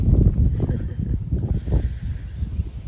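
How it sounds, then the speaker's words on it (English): Birds tweet in short bright chirps high above at a sunny beach, moderately near, over a low rumbling background of wind or handling noise. "Can you hear the birds tweeting?"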